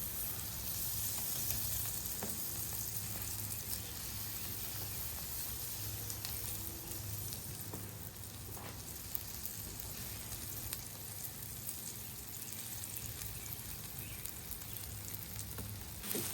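Butter and slices of toast sizzle steadily on a heated griddle, a continuous close crackling hiss with occasional sharper pops and no voices over it.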